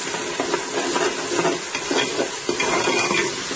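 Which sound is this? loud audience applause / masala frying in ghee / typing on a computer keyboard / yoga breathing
masala frying in ghee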